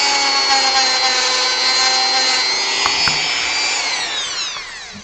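A drum sander grinds steadily at a Final Fantasy V model part, a loud continuous whine that holds for most of the stretch and then drops in pitch as it winds down, with no talking.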